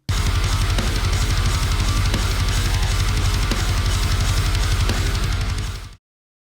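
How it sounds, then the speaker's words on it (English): Programmed MIDI metal riff with rapid sixteenth-note bass drum hits, dense distorted guitars and drums playing loud and continuous for about six seconds before stopping abruptly. "here I decided to go with 16ths in the bass drum"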